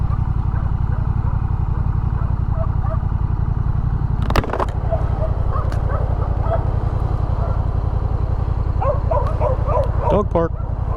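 Dogs bark in scattered bursts at a kennel beside a highway, heard under the loud steady drone of a Rebel 1100 motorcycle riding past.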